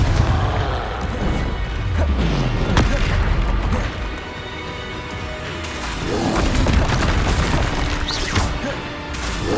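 Confringo fire spells burst during a Hogwarts Legacy battle, with repeated deep booms and crashes piling into a loud, continuous, dense wash of combat sound.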